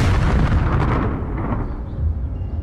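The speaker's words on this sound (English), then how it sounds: "That was obviously the explosion wasn't real." A car bomb explosion from a drama scene, a loud deep boom that rumbles and slowly decays over a couple of seconds, with no speech over it.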